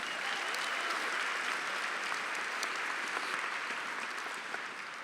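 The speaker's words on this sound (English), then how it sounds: "Please give them a round of applause" Sustained audience applause at a university medical school commencement and hooding ceremony, honoring the faculty seated on stage; dense, steady clapping from a large crowd holds for the whole stretch, only easing slightly at the very end.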